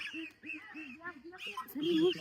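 Geese being weighed on a farm honk in short nasal calls, several close bursts with a louder, harsher one near the end, while a person talks alongside.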